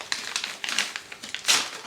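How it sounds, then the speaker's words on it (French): Crinkly plastic packaging is torn and crumpled while unwrapping a book, sharp irregular rustling bursts, close and fairly loud. "on va déballer un dernier livre"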